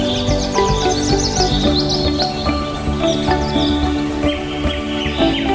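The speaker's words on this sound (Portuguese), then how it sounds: "No céu, centenas de cegonhas brancas e andorinhas cruzam as correntes quentes." White storks and swallows calling during migration, a busy layer of high chirps and twitters over a dense, loud wildlife background with no talk.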